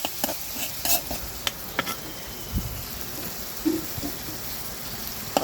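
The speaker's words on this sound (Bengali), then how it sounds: "আমি পেঁয়াজগুলোকে ভালো করে বেজে নেব" Onions fry in a pan with a soft, constant sizzle, interrupted by occasional stirring scrapes and light taps of a utensil against the pan.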